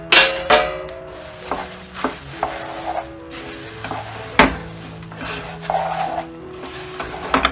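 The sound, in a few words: stirring puffed rice and nuts into syrup in a pan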